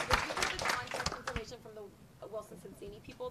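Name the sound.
round of applause for Wilson Sonsini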